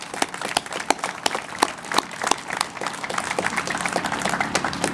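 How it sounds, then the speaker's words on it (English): Audience applause at a ribbon-cutting ceremony for a food pantry: sustained crowd clapping with sharp individual claps standing out, steady and moderately loud for the full stretch. "Let's give Tony a round of applause."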